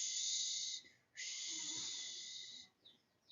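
A voice imitates wind in a first-grade lesson, a long, high, airy whoosh that breaks briefly and resumes, ending with a few softer breathy puffs.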